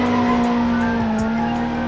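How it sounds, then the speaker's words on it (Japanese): An animated Toyota AE86 drifting on a mountain pass, with a sustained loud tire squeal and a steady engine tone running continuously throughout. "ドリフトの練習をしていた。"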